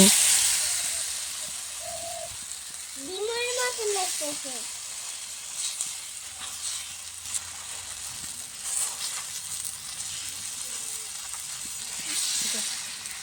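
Batter for golauti spreading on a hot oiled tawa griddle, giving a steady soft sizzle and hiss with someone talking over it and a brief high whistle-like sweep partway through.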